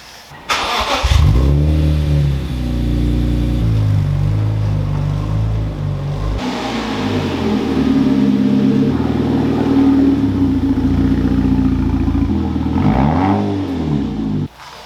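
A car engine starts and runs as the car is moved, a loud steady mid-pitched hum with rising and falling revs and gear changes, heard up close with no talk.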